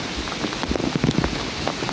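Heavy rain pours down steadily at a water park, a dense, even hiss of drops on surfaces lasting throughout, loud and close with no clear talk over it.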